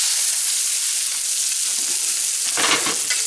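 A venison roast from an Ohio whitetail buck sears in a hot pan with a loud, steady sizzle and hiss, swelling into a brief sputtering burst near the end when it is turned onto its edge.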